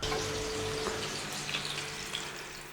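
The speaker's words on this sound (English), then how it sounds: "So all we're going to do is put our kebabs in there. And we're going to shallow fry." Seekh kebabs shallow frying in a pan, giving a steady close sizzle and crackle with a few small pops, fairly quiet and without any talking.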